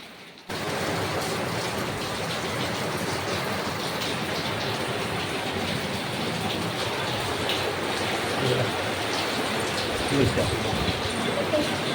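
Rainwater gushes steadily out of a pipe during heavy rain, a continuous loud broadband splashing and rushing that runs the whole time with little change in level.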